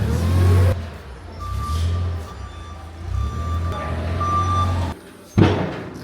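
A truck rumbles loudly up close while backing out, with a steady series of evenly spaced reversing beeps over the engine, a short drop in sound, then a burst of revving.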